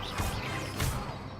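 Incendio fire spell bursting in Hogwarts Legacy, two loud whooshing flame blasts about half a second apart over a steady game background rumble.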